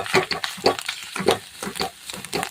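A spoon scrapes and stirs ghee berry residue in a pan on a gas stove, making several rhythmic strokes over a soft sizzle, close and moderately loud.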